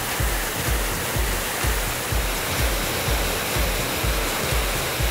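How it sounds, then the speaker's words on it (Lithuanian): Artificial waterfalls pour into the 9/11 memorial pools in New York, giving a loud, steady, close rushing roar of falling water with a faint low pulsing underneath, no voices. "šie dirbtiniai kriokliai didžiausi Šiaurės Amerikoje"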